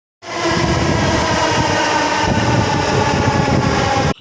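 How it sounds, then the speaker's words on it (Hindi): A Blue Line metro train at Noida City Centre station roars past loudly and steadily, a dense rumbling rush that starts abruptly, holds for about four seconds, then cuts off. "अभी मैं खड़ी हूँ ब्लू लाइन के Noida city centre metro station पर"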